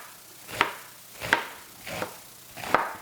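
A knife chops through a vegetable on a board while kimchi is being prepared: four evenly spaced, close, crisp cuts with short quiet gaps between them and no talking.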